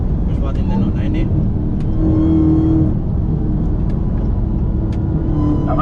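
A tuned SRT Hellcat drives hard, its engine a loud, continuous low rumble and drone from inside the car, with voices faintly over it.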